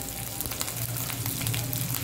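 Chopped green chillies sizzle in a hot pan while mutton liver pepper fry is being made, a short, fairly loud and even frying hiss with faint bubbling and spatter throughout.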